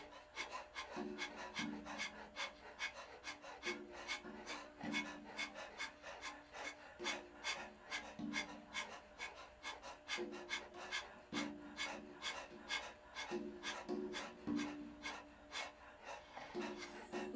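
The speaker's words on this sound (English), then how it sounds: "We're going to breathe very rapidly through, not rapidly, but like a dog panting." A person doing the dog's breath pranayama yoga exercise pants rapidly from the upper chest, a fast, even train of short breathy huffs at close range, steady throughout without talk.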